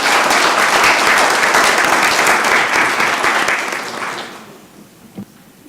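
Loud, sustained applause from an audience at a city council meeting, steady for about four seconds before fading out.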